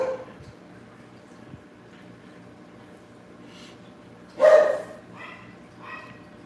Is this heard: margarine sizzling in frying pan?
no